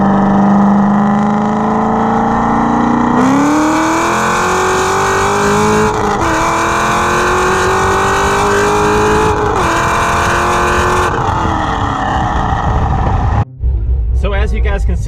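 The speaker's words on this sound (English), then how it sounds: "So as you guys can see, the car definitely goes like hell" A tuned car, just back from a performance shop, accelerates hard on a road, its loud engine note climbing steadily through the gears with brief shift breaks before cutting off near the end.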